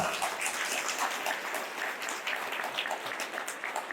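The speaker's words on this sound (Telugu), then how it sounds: "గట్టిగా కొట్టండి చప్పట్లు," An audience claps at a political forum meeting in Nellore, a dense, continuous round of applause from a large crowd that stays loud and even throughout.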